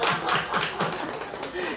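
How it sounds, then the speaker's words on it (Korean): A small church congregation at a Korean Sunday service claps briefly in a loose, scattered burst, with speech and laughter mixed over it in a close, roomy space. "박수 한번 쳐주죠."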